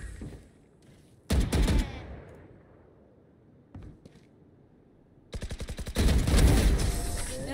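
Gunfire in the Valorant shooter game: a loud burst of rapid automatic fire, a lone shot, then a sustained fast volley, all close and sharp.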